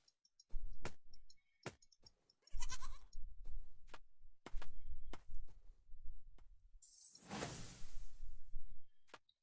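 Sheep bleating in the video game Crea, several bleats mixed with sharp clicks and whooshing spell effects, moderately loud and uneven in rhythm, with no talk.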